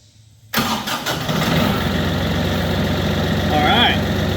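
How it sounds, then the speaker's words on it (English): A diesel engine cranks briefly after a moment of quiet, then catches and settles into a loud, steady idle that runs close by for the rest of the clip. "we're gonna try to crank it now and see if it'll start up"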